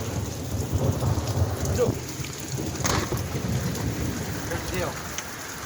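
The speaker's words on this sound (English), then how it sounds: "That's thunder." Thunder rumbles low and heavy through a rainstorm, with steady rain hissing across the clip and a louder roll swelling near the middle, while someone speaks briefly.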